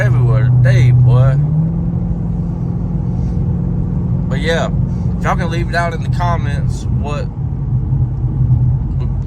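A Ford Mustang SS fitted with Flowmaster exhaust gives a steady, deep engine rumble that drones on continuously beneath someone talking throughout.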